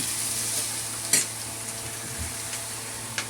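Grated carrot stirred into hot oil with grated coconut and curry leaves in a pan, giving a steady soft sizzle with a few brief utensil scrapes and taps, close and fairly quiet.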